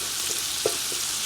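Cabbage sizzles steadily in a frying pan as cooked saltfish is added, a soft hiss with a small thud of food landing, close up and without speech.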